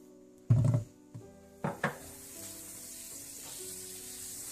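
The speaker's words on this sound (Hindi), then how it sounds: "सबसे पहले आप मक्खन गरम कर लें।" Butter heating in a pan for Peshawari namkeen gosht: a few short clunks and knocks of the pan at the start, then a soft, steady sizzle that continues quietly to the end, with no talking.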